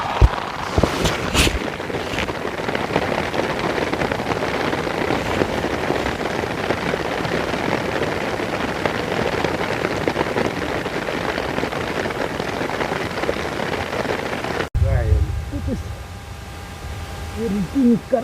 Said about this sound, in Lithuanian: Turim lietučio.